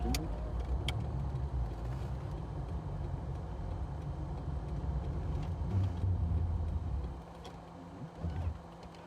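Lada car driving on a road in northern Russia, a steady low engine and road rumble running throughout, rising slightly near the middle and easing toward the end, with faint voices in the background.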